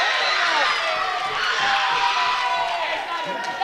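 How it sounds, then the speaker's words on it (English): A crowd cheers after a block at a women's varsity basketball game between Colerain and Northwest, a loud sustained roar filling the gym for a few seconds, with a voice partly under it. "I think the crowd reaction tells it all right there. A nice block."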